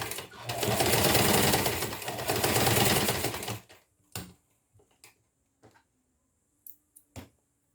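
A sewing machine stitches a safety seam on a school pencil case in one continuous, loud, close run of rapid whirring, followed by a few scattered clicks and taps of handling.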